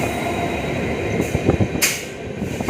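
A train leaves Yesvantpur station with a loud rumbling roll, metallic wheel squeals, and a couple of brief bursts of hiss over the continuous rail noise.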